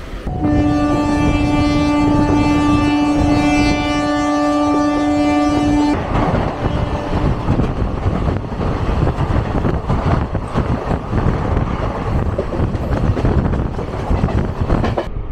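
The 12821 Dhauli Express blows a long, loud horn for several seconds, then rumbles on with steady rolling noise and rattling heard from inside an AC chair car.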